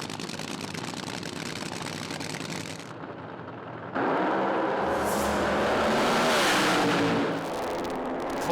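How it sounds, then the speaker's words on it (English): Nitro funny cars at a Willowbank Raceway drag race roar loudly down the track, engine noise dropping briefly before a sustained full-throttle blast that swells and then eases toward the finish. "Cool drag race, slapping that throttle pedal through the finish line"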